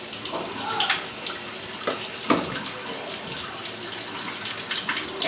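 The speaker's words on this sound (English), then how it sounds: "So let me wash my hand first and then we get started." Hands being washed under a running kitchen tap, a steady close water stream with splashes and rubbing as the hands move through it, fairly quiet and without speech.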